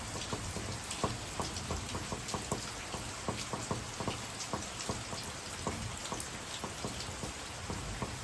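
Heavy evening downpour on a farm, a dense steady hiss of rain with a rapid, irregular patter of drops striking a nearby surface, continuous and fairly loud throughout.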